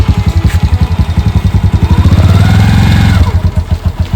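A motorcycle engine idles with a loud, close, rapid thumping pulse, then the throttle is opened gently so the revs rise smoothly for about a second before settling back to idle.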